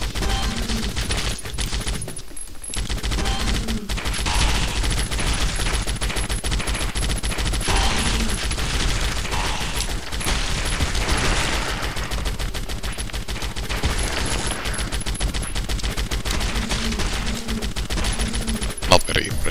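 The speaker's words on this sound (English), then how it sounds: "I have a minigun." Sustained rapid automatic gunfire from a minigun in the zombie game Zombie Shooter, a loud continuous roar of shots running nearly unbroken for the whole stretch, with a brief dip early on.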